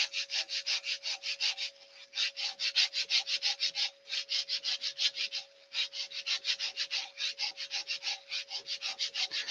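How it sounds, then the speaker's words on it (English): A wooden vase being sanded on a spinning woodturning lathe at a live demonstration: rapid, rhythmic rubbing strokes in quick pulses over a steady motor hum, with two brief pauses and no talking. "Now you can spend as long as you want with sanding."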